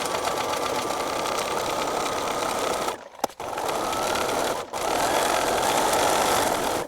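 A sewing machine stitches lines across a kitchen towel with a loud, steady mechanical whir that halts briefly twice, once with a small click, before running on.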